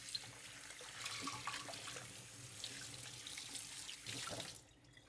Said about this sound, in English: Quick rinse, warm water.